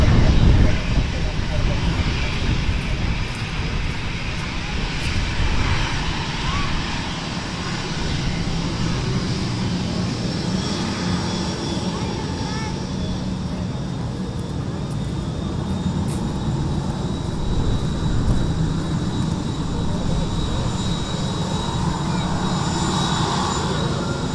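Airbus A319 jet airliner at Manchester Airport, a loud steady engine roar and rumble lasting the whole stretch with a slight whine above, heard from outdoors with some talk mixed in.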